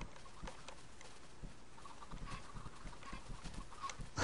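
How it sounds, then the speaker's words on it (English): Many chickens cluck in Minecraft, soft scattered clucks and flutters overlapping at low volume across the whole stretch, with no voices. "there's just a lot of chickens, as you can clearly tell."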